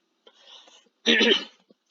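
A single short, harsh cough bursts out after a faint murmur, close and loud in an otherwise quiet room.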